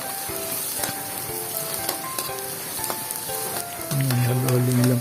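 Garlic sizzling in hot cooking oil in a pan for Filipino-style corned beef, a steady dense crackle that swells louder near the end, with kitchen clinks and a low hum underneath.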